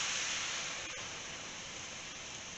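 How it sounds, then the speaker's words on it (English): Homemade chicken stock, made from chicken carcasses, sizzles on the hot bottom of a pan for a chicken pot pie: a soft, steady hiss that stays faint and even throughout. "That sizzle on the bottom is a good thing."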